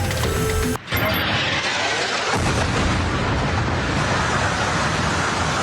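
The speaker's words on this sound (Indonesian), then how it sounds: "Sebuah rekaman video menunjukkan ledakan akibat serangan udara Israel menghantam sejumlah gedung" An Israeli airstrike hits buildings in Beirut's southern suburbs: a sudden impact followed by a sustained, roaring blast of broadband noise that keeps rumbling loudly for several seconds.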